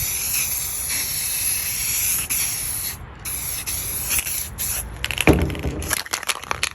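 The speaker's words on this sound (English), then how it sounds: "Spray it all around the outside." A spray paint can gives a steady hissing spray for several seconds, pausing briefly, then breaks into short sputtering bursts near the end, close by.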